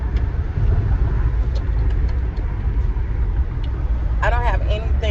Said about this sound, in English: I'm in my vehicle to test drive it